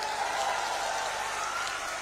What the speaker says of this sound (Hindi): आइए विजेंद्र बाबू के लिए जोर दी ताली बजाइए जरा।